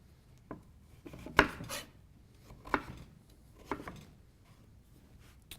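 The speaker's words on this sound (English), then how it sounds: "we can just cut into small wedges, and then those we cut into small chunks" Knife cutting a winter squash into wedges and chunks, with a few separate crisp chops and scrapes on a board spread over several seconds, close and fairly quiet.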